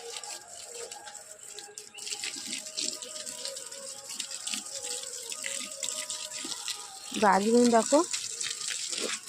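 Garden plants being watered by hand, a steady spray of water running through birdsong, with a louder gushing splash near the end while someone talks now and then.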